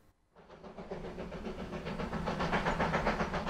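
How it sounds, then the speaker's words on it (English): A steam train runs through the American South near Chattanooga, Tennessee, its hiss and rhythmic chuffing starting after a brief quiet moment and building steadily louder and closer. "The sound of a steam train running through the South is a part of American history."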